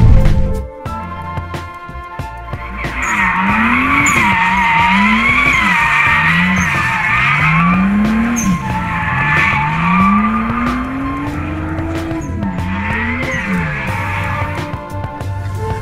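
A drift car freshly rebuilt for the 2012 season slides with loud, sustained tire squeal, the engine note rising and falling in repeated revving sweeps as it skids through long arcs, close and intense.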